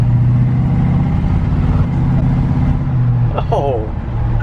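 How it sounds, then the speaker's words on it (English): A 1979 Chevy C10 Bonanza truck accelerates hard, its engine a loud steady drone throughout, with a brief exclamation from a voice near the end. "wow, that was some serious acceleration right there"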